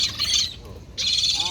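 A rescued seagull on Chincoteague Island, Virginia gives two harsh, loud calls close by, with a short quieter gap between them.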